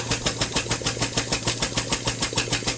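A small air-powered engine runs close by, giving a rapid, steady train of evenly spaced chuffing beats with a mechanical hum underneath and no talking.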